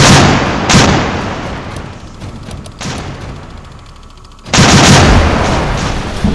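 Naval gun turrets fire in the Atlantic naval combat game Victory At Sea Atlantic, heavy booming salvos arriving in several loud bursts, each trailing off into rumbling decay before the next large blast.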